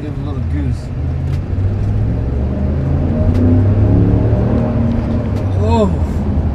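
A 2020 Dodge Ram 1500 Bighorn pickup with a 5.7L Hemi engine gets goosed from a stop, its steady low engine drone building and rising through the clip beneath someone talking from inside the cab.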